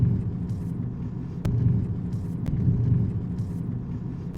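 A car moves slowly through city streets in fourth gear, its low, steady engine and road rumble heard from inside the cabin, with two faint clicks along the way.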